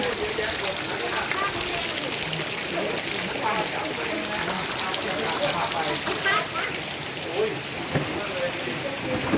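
Steady rain falling outdoors near a rice-field hut in Thailand, a dense continuous hiss without pause throughout.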